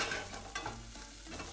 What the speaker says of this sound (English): Cooking the onions a little translucent.